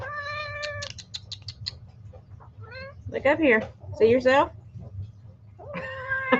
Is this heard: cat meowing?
yes